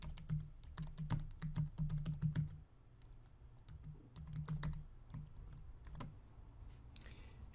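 Rapid clicking of keys on a computer keyboard, close up, in quick bursts with short pauses between them.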